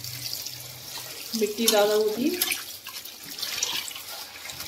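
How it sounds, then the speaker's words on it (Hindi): Running water from a tap splashes as whole spring onions are rinsed to wash out grit and soil, a moderate close gurgle and splatter under a woman's speech. "मैं इसको साबित धुलवा रही हूँ ताकि इसका किरकिरापन निकल जाए।"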